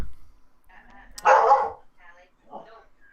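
A single dog barks loudly at close range, a short burst among people chatting during a lively evening game night, with voices before and after.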